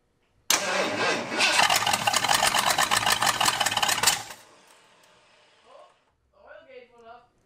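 A flooded Ford F150 engine cranks and fires with a loud, rough, rapid churning that runs for several seconds and then stops abruptly, after which someone speaks briefly.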